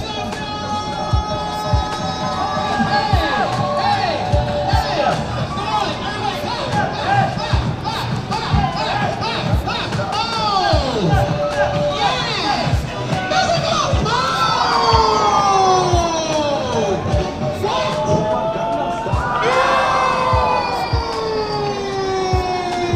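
A dense, loud crowd cheers and shouts continuously in Leicester Square, with high excited voices, whoops and screams rising and falling throughout.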